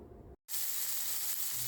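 Boneless chicken breast sizzles on a skillet, a loud steady hiss of frying that surges back after a brief silent cut and continues unbroken, with no voices over it.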